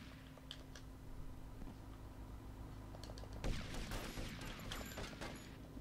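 Video game gunfire in a shootout at a mall in GTA Vice City: a steady background hum, then a dense loud burst of rapid shots starting midway and continuing to the end.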